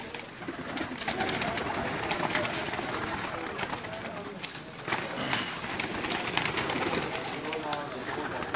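Pakistani pigeons coo on a rooftop in Jeddah, Saudi Arabia, low murmuring coos under continuous background bustle and rustle, with someone talking over them.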